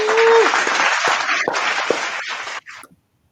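Small-group clapping and a whoop for a podcast guest, fairly close and moderate in level, with scattered voices; it fades out abruptly after about two and a half seconds, leaving silence.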